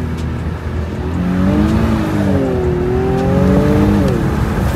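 An Infiniti Q60 Red Sport pulls hard from a 20 mph roll, its engine note climbing steadily and loud from inside the cabin, with the rising pitch holding strong across several seconds and no talking.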